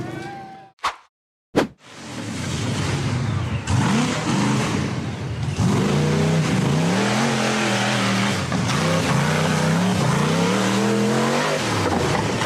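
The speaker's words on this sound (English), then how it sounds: "The black buggy accelerated along the trail and then powered straight up a steep dirt embankment." A black off-road buggy revs hard and accelerates along a dirt trail, then climbs a steep dirt embankment. Two sharp bursts come first, followed by a loud, sustained engine roar that rises and falls in pitch as the throttle works.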